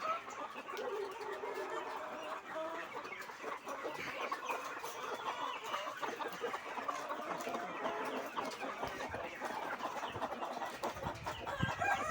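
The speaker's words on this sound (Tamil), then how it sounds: "பேரண்ட்டை தான் பார்த்துட்ருக்குங்க, தாய்க்கோழியை" Peruvidai country hens, parent birds at a chick-selling farm, clucking continuously and close by, with a rooster crowing among the flock and a busy farmyard clamour behind them.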